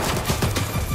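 Rapid gunfire from the video game Stalker 2: Heart of Chornobyl, a dense, continuous burst of shots with no voices over it.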